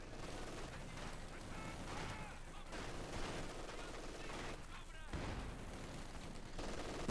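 Company of Heroes 2 battle sounds with field artillery bombardment and mortar fire. A dense run of blasts and gunfire rumbles on at moderate loudness, and a voice talks over it.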